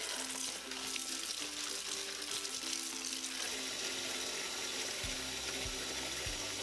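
Tap water runs steadily into a sink or bowl for rinsing dried lotus leaves in a home kitchen, a continuous faint wash with no talking.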